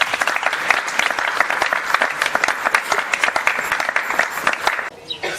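Audience at a school event for the Muana CMS groupe scolaire applauds its promoters, a dense, sustained burst of many hands clapping that stays steady and fairly loud before tapering off near the end.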